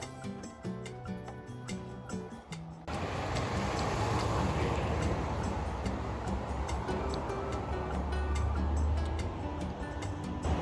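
Busy Vancouver street with dense traffic noise swelling in after a quieter stretch, a steady loud roar of passing vehicles filling the rest of the scene.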